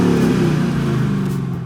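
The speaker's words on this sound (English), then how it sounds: "even with the stock exhaust, these V8 Mustangs sound better than any other car on this list" Ford Mustang V8 on its stock exhaust revving up in one brief, loud, rising burst that fades slightly at the end.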